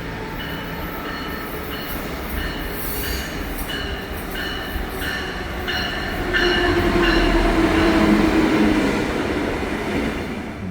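A Brightline passenger train in Florida rolls by with a loud, steady rumble, faint wheel squeal, and rising clatter toward the end, with no talking.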